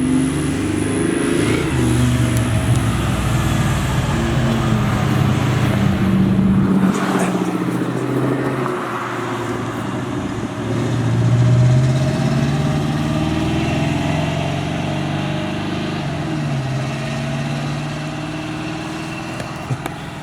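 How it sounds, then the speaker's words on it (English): A box Chevy car engine runs and drives, a loud steady rumble with rising revs and idling passages throughout, close to the listener, with no talk. "Man, it run like a sewing machine, man. Big Meech run good for real"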